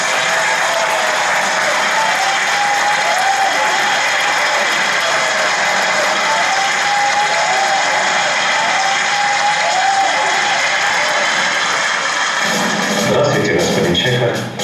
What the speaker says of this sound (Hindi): आप सभी भिलाई वासियों से अनुरोध है कि दिमशित सर का हम तालियों की गड़गड़ाहट के साथ स्वागत करें